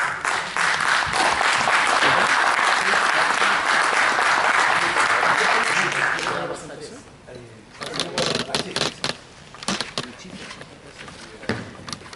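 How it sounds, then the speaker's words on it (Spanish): A conference audience at a dental pain-management talk gives loud, sustained applause for about six seconds, then scattered claps and faint voices follow as it dies down. "les pido un fuerte aplauso"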